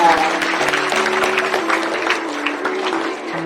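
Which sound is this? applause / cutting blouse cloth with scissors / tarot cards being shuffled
applause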